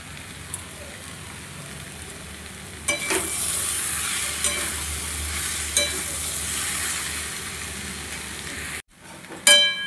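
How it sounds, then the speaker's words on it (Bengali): Tomato masala sautéing in a pan, a soft sizzle that swells after a few seconds with occasional spatula scrapes, then a brief cutoff and a louder clatter at the end. "এটা খুব ভালোভাবে একটু কষাবো যাতে টমেটোর কাঁচা গন্ধটা পুরো চলে যায়"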